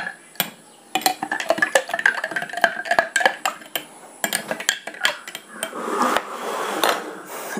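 Salt being stirred into a glass of water with a spoon for a floating egg experiment, giving quick irregular clinks and taps of metal on glass, close and fairly loud, with no voice over it.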